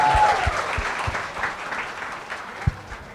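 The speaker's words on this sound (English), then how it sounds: "let's give a huge round of applause" Audience applause at a live drone awards event with Chennai Super Kings, dense clapping from a crowd with a few sharper low thumps, steady and fairly loud for a few seconds.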